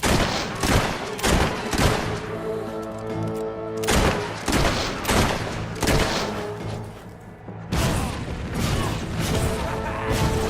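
Gunfire in the video game Fable 3, a rapid series of loud, close shots and blasts roughly every half second, with a droning musical tone beneath and brief pauses between bursts.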